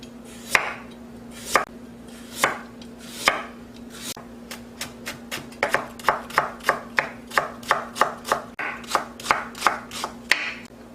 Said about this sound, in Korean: 당근 약간만 썰어 넣어주겠어요.